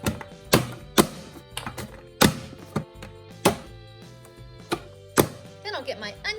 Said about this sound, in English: Then I'm gonna get my onion diced.